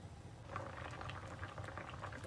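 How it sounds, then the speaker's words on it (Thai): Sweet potatoes boiling in a pot of water, a steady bubbling and gentle popping that carries on evenly and close by throughout, with no voices. "มาต้มให้มันเปื่อยๆจ้า"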